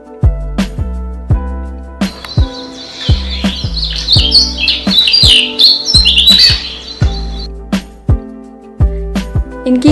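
Repeated sharp brown rock chat calls, chirps and tweets ringing out close by, some in quick bursts, with a busier stretch of higher twittering in the middle.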